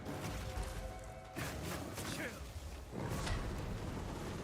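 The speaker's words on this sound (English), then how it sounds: "that's a flamethrower" Flamethrower attack in Path of Exile 2, heard as roaring bursts of broadband noise with sudden onsets around one and a half and three seconds, layered with impact thuds, under a speaking voice.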